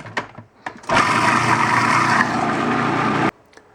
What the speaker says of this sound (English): So let me blend this up a little farther.